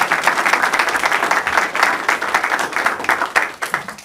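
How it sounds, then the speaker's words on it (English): An audience at a risk management panel event claps steadily, a dense wash of applause throughout. "let's give them a round of applause, please."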